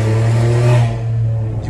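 A Volkswagen Polo TSI with an open exhaust diffuser revs loudly up close, its booming exhaust roar climbing to a peak and then easing back to a lower, rough drone.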